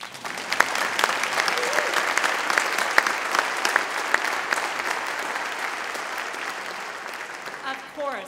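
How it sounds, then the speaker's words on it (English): Audience applause at a synagogue cantor installation ceremony, a steady sustained clapping from a full room that continues for several seconds before tapering near the end, with a voice briefly emerging at the close. "You can applaud for him."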